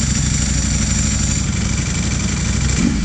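A Ducati Panigale V4R motorcycle engine runs loud and close, a dense, steady mechanical roar that holds at high revs throughout the short burst, with a slight surge near the end.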